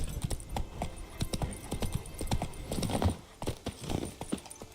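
Roach, Geralt's horse in The Witcher 3, gallops with steady rhythmic hoofbeats thudding up close, a brief whinny and faint game ambience mixed in.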